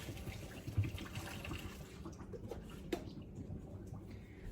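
Water runs off cooked, very soft spinach as it is drained, a soft, trickling splash close by that thins out toward the end, with a brief clatter near the middle.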